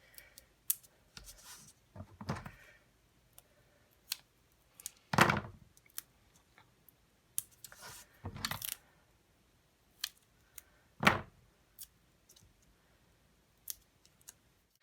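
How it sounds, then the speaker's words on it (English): Scissors snip through metallic silver paper or cardstock in a series of crisp, close cuts separated by short pauses, with light handling clicks between them and no talking. "I cut this out of metallic silver paper or cardstock"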